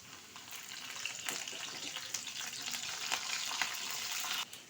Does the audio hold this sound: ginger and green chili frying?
yes